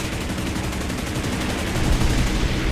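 An aircraft machine gun in War Thunder fires one sustained, dense burst of rapid shots, loud and close, running steadily for nearly three seconds before cutting off abruptly.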